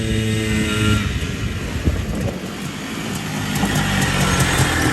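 A Polaris Scrambler three-wheeler rides past loud and close, its engine roaring and building as it accelerates, with a steady rushing drone throughout.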